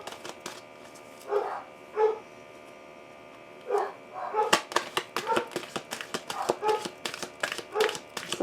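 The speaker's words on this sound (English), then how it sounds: "Sorry about the dogs." Several dogs barking outdoors at a distance, with repeated harmonic barks in bursts and a quick run of yaps near the end, heard alone with no talk over them.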